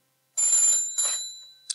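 An old-style telephone bell rings in two bright, metallic bursts close by, followed by the start of a third, with no voices over it.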